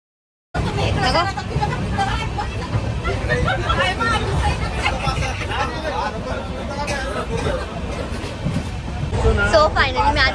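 A crowded platform at Pune railway station fills the scene with a constant dense hum of crowd chatter and rumbling trains, plus occasional horn-like tones. The noise is loud and continuous throughout.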